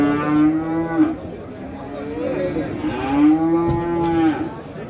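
Cattle at a livestock market low loudly and close by, long drawn-out moos rising and falling one after another with a little background noise and no talk.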